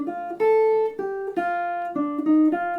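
Guitar playing a slow bebop phrase built on a major 7th shape, resolving from the 4th to the 3rd; a handful of sustained, clearly separated notes ring out close and alone, with no talking.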